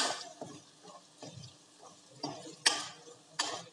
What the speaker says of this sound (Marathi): छान असं परतून घेत आहे आपण